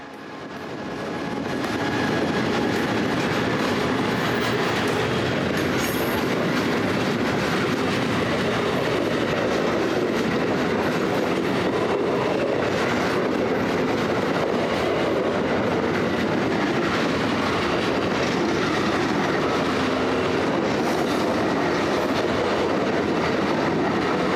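The Amtrak Meteor passenger train pulls out on its run up the East Coast to New York City in Florida, a loud, continuous rumble of wheels and cars rolling past close by, with no voices.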